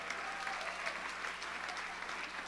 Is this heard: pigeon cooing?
no